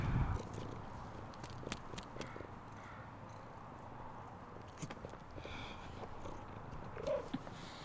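Domestic lap cat purring in steady low rumbling cycles, close and soft, with faint outdoor background noise and a brief rustle near the end; no talk.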